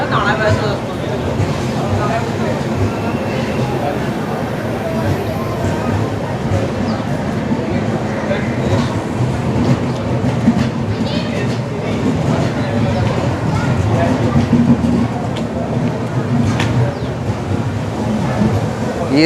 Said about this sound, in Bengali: দেখা যাক, আগে ট্রেনটা ঢুকুক পুরোটা